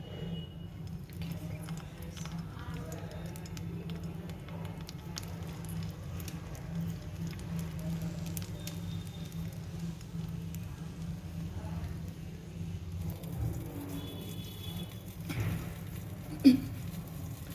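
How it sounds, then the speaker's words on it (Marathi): Stuffed eggplants sizzle in hot oil in a home kitchen, a faint, steady patter of frying crackle over a low background hum. "तेल आता गरम झालं आहे. त्यामध्ये आपण भरून घेतलेली वांगी तेल"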